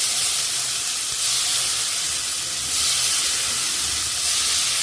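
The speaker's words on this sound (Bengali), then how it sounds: "গুলাইয়া এই যে পাতিলের মধ্যে তেল দিয়ে এখন আমার গুলানোটা দিয়ে দিব।" Batter hits hot oil in a cooking pot and sizzles loudly in a steady, bright hiss that surges gently in waves throughout.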